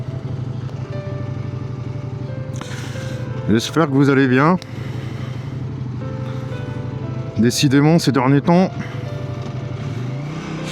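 A Kawasaki NK800 motorcycle rides at night with a steady low engine drone beneath someone talking in French over most of the stretch.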